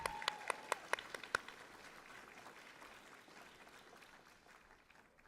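Applause for youth tour contest winners at an event: a few sharp individual claps open, then a faint, thin spread of clapping that slowly dies away.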